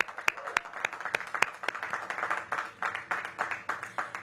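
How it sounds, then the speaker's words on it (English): An audience at an outdoor holiday season kickoff event in Washington, DC applauds, with sharp individual claps standing out above a softer, continuous patter of crowd applause. "Can we get a round of applause there, please?"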